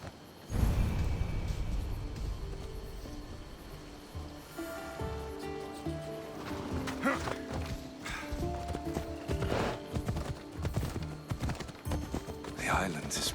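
Horse hooves clip-clop steadily while riding in Assassin's Creed Odyssey, a rhythmic trot running under a dense bed of game music, with occasional nickering and voices talking over it.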